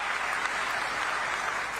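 Dense, steady applause from a crowd at a farmers' rally, continuous and fairly loud for the whole stretch with no pauses.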